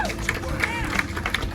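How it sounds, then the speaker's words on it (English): Crowd applause and cheering at an outdoor Hot Wheels Legends Tour car show, dense steady clapping and babble throughout, fairly loud and close, with scattered sharper claps standing out. "Give him a round of applause, please."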